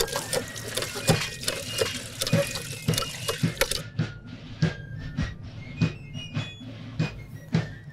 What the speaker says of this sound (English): Let's get this stuff filled so we can start the 3 hours of soaking.